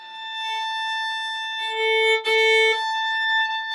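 A sustained high violin harmonic rings steadily, joined midway by a lower note that slides into place under the pinky, with a brief bow noise between; close and clear.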